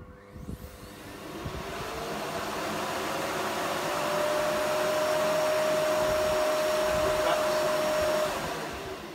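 A Hoover Dustmanager vacuum cleaner with a turbo tool whirs steadily and loudly, its pitch rising slightly as it runs, then it begins to wind down at the end.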